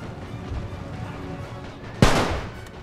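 A musket volley from troops in a video game about the Great War in Serbia: a single sharp, loud burst two seconds in that decays quickly, preceded by low rumbling background noise.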